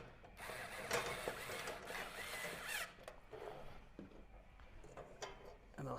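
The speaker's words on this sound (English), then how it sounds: "Now we've got to put these screws back in." Screws are driven back into the panel of a Bespoke Panoramic electric fire, giving quiet, close ratcheting and mechanical clicking in uneven bursts with soft handling noise between them.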